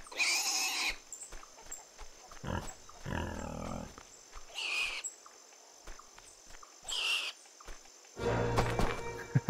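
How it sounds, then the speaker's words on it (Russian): In the farming game Farmer's Life, a ridden pig gives bursts of loud squealing and snorting grunts in several separate outbursts, mixed with thumps and clatter against a faint steady background hum. "Объездит свинью."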